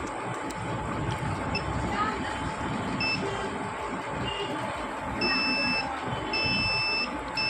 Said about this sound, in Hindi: किस पे बीप बज रहा है और किस पे नहीं बज रहा है